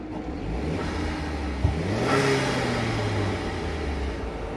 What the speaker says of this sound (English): let's see if we can hear the turbo sounds